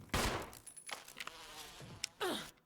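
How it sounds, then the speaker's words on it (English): Buzzing swarm of bees in the video game Resident Evil, a busy insect drone with sharp bursts of game effects, loud and close, no talking. "No bees!"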